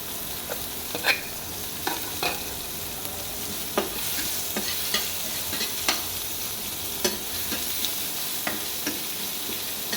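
Chopped onion frying in hot oil, a steady close sizzle broken by occasional clicks and scrapes of a spatula stirring in the pan.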